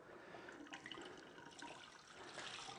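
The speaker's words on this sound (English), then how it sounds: "So just put some water in the jug and very carefully rinse off this surface." Water poured from a jug to rinse a kitchen sink and bench surface, a soft continuous splashing and trickling, fairly faint and steady throughout with no talk.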